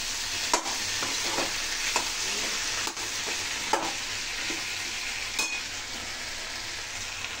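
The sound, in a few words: frying and stirring okra and potatoes in a pan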